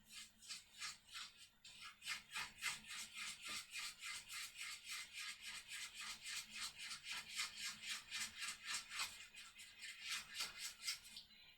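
Red and blue paint being mixed together, a fast regular scraping and rubbing rhythm, faint and close, continuing for several seconds with no talking.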